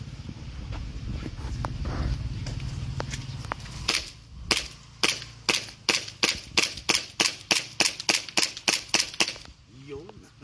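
A JWC Pit Viper toy pistol fires a rapid string of about fifteen sharp, loud cap-gun-like shots in steady rhythm, following a stretch of low rumbling background noise.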